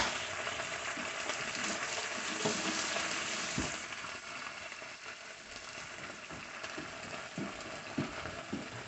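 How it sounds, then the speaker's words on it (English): Turkey bacon and brussels sprouts fry in a hot pan, giving a steady, close crackling sizzle that runs throughout with small pops and spits, a little louder at the start and easing slightly after a few seconds. "You can hear that sizzle."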